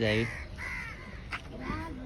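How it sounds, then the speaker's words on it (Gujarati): Several crows caw in short harsh bursts near the listener, a quick series of calls with a person speaking over them, at a seaside place in Diu. "આવી અહીંયા જો કાગડા કેટલા બધા"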